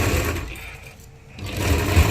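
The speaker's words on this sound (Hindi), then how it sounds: "ऐसे अच्छे से फोल्ड करने के बाद ऐसे धार पे सिलाई लेनी है ना अपनों को" A sewing machine runs a stitch along the folded edge of a blouse strip, a steady whirring hum that dips briefly in the middle and then picks back up.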